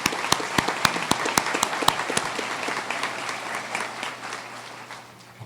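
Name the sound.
audience applause at commencement ceremony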